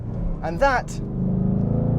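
A Chevrolet Camaro SS 1LE V8 engine rumbles low and steady at close range. A voice briefly speaks over it at the start before the engine drones on alone.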